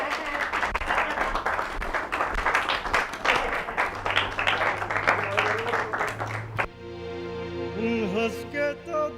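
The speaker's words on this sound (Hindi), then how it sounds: "तालियां!" Audience applause at a comedy parody stage show, dense uneven clapping mixed with crowd noise that cuts off abruptly into music with a sung voice.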